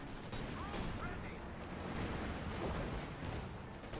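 BAR rifles fire from massed infantry in Company of Heroes 2, a dense continuous crackle of overlapping gunshots holding a defensive line, steady and moderately loud.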